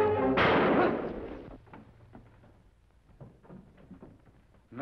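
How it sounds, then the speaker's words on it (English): A single loud gunshot in a western TV drama, a sharp blast with a booming decay lasting about a second, followed by quieter scattered thumps and background noise. "Why did you have to shoot him?"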